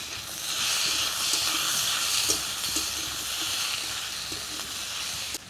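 Radish and vegetables stir-frying in a pan with salt, turmeric and cumin powder, a steady loud close sizzle and hiss throughout with faint stirring scrapes.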